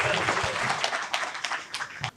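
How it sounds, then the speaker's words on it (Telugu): Audience applause in a hall as a bodybuilder, a Mr India 2025 title holder, is welcomed onto the stage at a youth spiritual gathering, a steady wash of clapping with a few sharper claps standing out near the end. "వారిని సాధారణంగా చప్పట్లతో వేదిక మీదకి ఆహ్వానిద్దాం."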